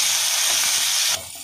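Shallots hit a hot frying pan of garlic and ginger for a Kerala-style fish curry, giving a loud, continuous sizzling hiss that shifts and thins slightly near the end.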